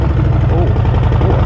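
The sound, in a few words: Harley-Davidson Low Rider S motorcycle engine idling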